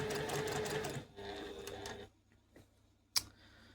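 Sewing machine stitching a curve in fabric, rapid mechanical stitching bursts that slow and stop, followed by a faint click near the end.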